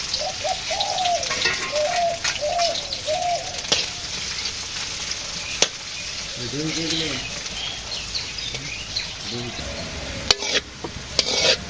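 Onions frying in a pan in a village kitchen, a steady close sizzle with occasional stirring scrapes, and birds chirping in the background outdoors.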